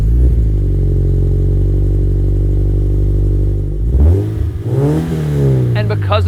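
A 2013 Scion FR-S sports car engine holds a loud, steady low growl, then dips and climbs again as it accelerates, with a raspy rising tone near the end.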